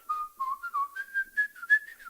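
A person whistles a short wavering melody of several rising and falling notes, clear and fairly close, alone with no talk.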